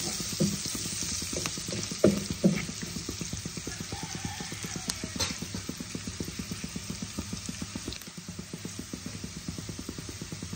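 Onions sizzle steadily in hot oil with a dense, continuous crackle and occasional sharp pops and stirring scrapes, close and loud throughout with no talking.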